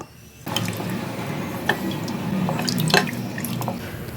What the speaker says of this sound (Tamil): இப்போ தண்ணி கொதிச்சு வந்துட்டுருக்கு